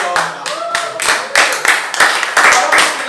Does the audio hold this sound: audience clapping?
yes